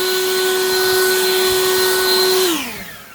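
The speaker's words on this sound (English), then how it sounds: "For an electric blower, it's almost as good as one of those like Poland Pro gas." A Harbor Freight Lynxx 40V lithium cordless electric leaf blower runs with a loud, steady high-pitched whine and airy rush, then powers down as the tone drops and fades.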